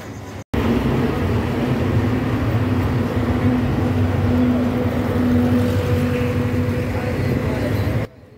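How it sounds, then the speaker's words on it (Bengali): The Panchagarh Express train rolls onto the Jamuna bridge at night, giving a loud, continuous rumble with a steady humming drone that holds evenly throughout before cutting off abruptly. "অবশেষে আমাদের ট্রেন কিন্তু যমুনা সেতুতে উঠে গেছে"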